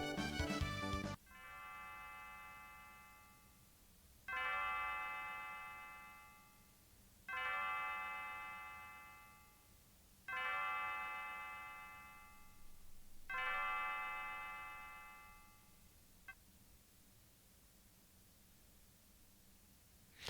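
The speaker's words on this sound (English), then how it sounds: "What a heavy ass fucking bell though." A heavy bell in Chrono Trigger rings four times at an even pace, each strike a bright metallic clang that decays slowly, over a low steady hum, with no talking.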